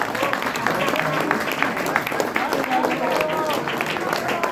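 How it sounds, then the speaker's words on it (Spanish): An audience applauds at a tribute event at Mexico's Fonoteca Nacional, the clapping a dense, steady patter running beneath someone speaking over it. "un aplauso para él, por favor"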